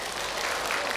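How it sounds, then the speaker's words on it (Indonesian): A seated audience at an Indonesian religious lecture gives a dense, steady round of applause for a woman, close and uninterrupted for a short moment, with no talk over it. "Oke, tepuk tangan dong buat Ibu"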